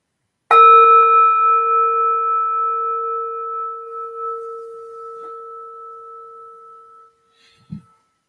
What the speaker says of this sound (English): We'll invite the bell.